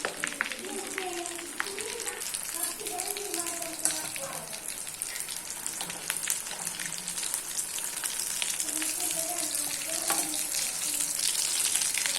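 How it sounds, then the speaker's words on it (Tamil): Potato and egg snacks coated in batter fry in hot oil with a steady, dense sizzle that fills the whole stretch, while a person talks over it. "இதை எண்ணெயில் போட்டுடலாம்"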